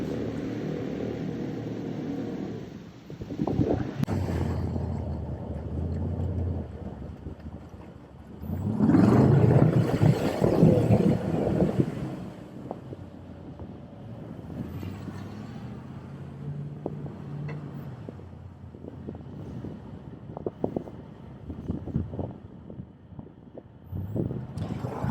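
Tut amphibious truck struggling to climb out of ice, its engine droning and surging in uneven bursts with a loud strain in the middle, close by and with no talk.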